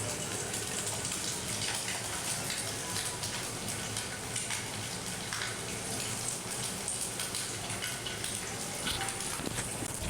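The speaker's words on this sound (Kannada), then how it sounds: "ಎಣ್ಣೆ ಕಾದ ಮೇಲೆ ನಾವು ಕಟ್ ಮಾಡಿದ ಬೇಯಿಸಿದ ಮೊಟ್ಟೆಗಳನ್ನು ಪ್ಯಾನ್ ಮೇಲೆ ಇಡಿ" Halved boiled eggs frying in hot oil in a pan give a steady, faint hiss and crackle that runs evenly throughout without pause.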